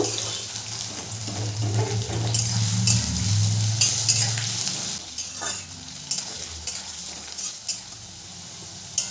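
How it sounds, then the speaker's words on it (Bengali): Potato pieces fry in oil over a medium gas flame with a steady, close hiss and crackle. A few scraping stirs follow, and the sizzle fades into softer intermittent pops, with no talk. "গ্যাসের ফ্লেমটাকে মিডিয়ামে রেখে আলুগুলোকে লাল করে আমি ভেজে নেব"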